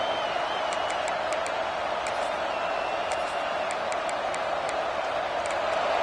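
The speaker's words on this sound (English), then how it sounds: "This crowd, full throat, splitting the eardrums and letting them know it's going to be a long day." A football stadium crowd at a Georgia college game roars in a sustained, loud wall of noise, with a few faint whistles and brief higher cries rising above it.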